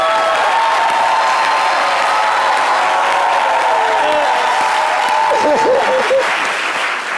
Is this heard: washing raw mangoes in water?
no